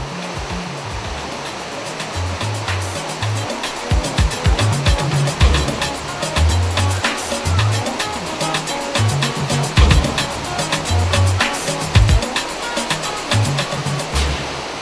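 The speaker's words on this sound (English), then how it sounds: "At its source, the White Nile has some of the most ferocious big water rapids on Earth." Big-water rapids at the source of the White Nile near Lake Victoria roar continuously and loudly, a dense unbroken rush of turbulent water with no pauses.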